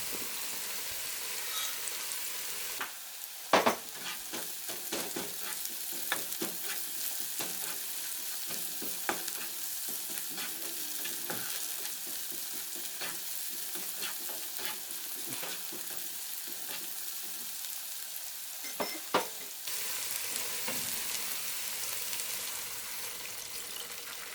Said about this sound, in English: I'm going to add 3/4 cup of apple cider vinegar with a tablespoon of Dijon mustard in it.